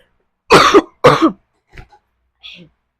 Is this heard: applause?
no